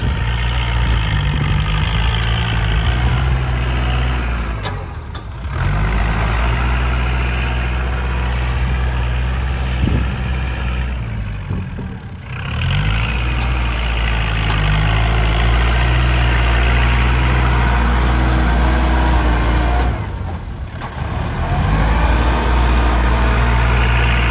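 A heavy Kubota L5018 tractor diesel engine runs steadily and loud while pushing a pile of wet soil, a low throbbing chug dipping briefly a few times as the load changes, no voices.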